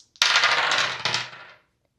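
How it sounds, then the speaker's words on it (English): Zodiac dice are tossed during a tarot card reading, a single bright clattering rattle that strikes sharply, rolls on for over a second and then stops, close and alone. "We are going to go ahead and roll our zodiac dice."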